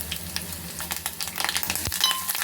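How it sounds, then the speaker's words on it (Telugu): Mustard seeds, cumin and fenugreek sizzle and crackle steadily in hot tempering oil for miriyala rasam, with scattered popping bursts and a few light utensil taps, close and continuous with no talking. "ఇప్పుడు తాలింపులోకి ఆవాలు, జీలకర్ర, మెంతులు వేసేద్దాం"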